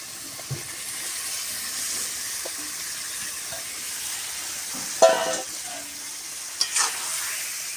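Chicken pieces sizzle and fry steadily in a hot pan while cooking chicken kosha, with a constant hiss and occasional stirring clatters.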